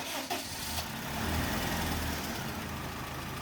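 A 2012 Honda Civic engine starts and settles into a steady, even idle, heard close by as a continuous low hum with a few faint knocks at the start and no voices.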